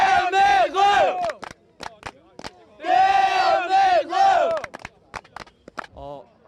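South Korean football supporters cheering on the Taeguk Warriors during a match against Brazil chant loudly in rhythmic bursts, with sharp claps and shouts between the sung phrases.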